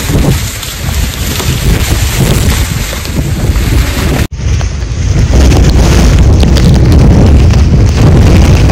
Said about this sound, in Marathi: वारा पण वाढला आता या टायमाला